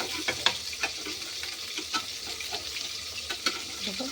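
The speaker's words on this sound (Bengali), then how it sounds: "তো খুব সুন্দর করে মাছ ভাজা হচ্ছে" Small yogurt-coated fish fry in a hot pan with a continuous close sizzle, broken by occasional light scrapes and pops as the pieces are stirred.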